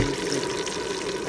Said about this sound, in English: I put the meatballs back in the pot, and I pour the sauce on top of them.